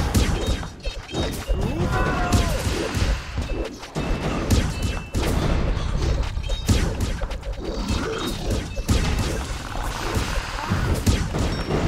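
Rockets firing in the tower defense game Kingdom Rush: Frontiers, a dense, loud barrage of blasts, crashes and thuds rolling on nonstop with clanking mechanical noise underneath.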